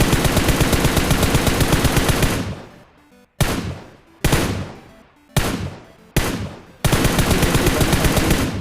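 Automatic gunfire from bots in PUBG, loud sustained bursts that stop and restart several times, with short sharp volleys between longer rattling strings and echoing decay in the gaps.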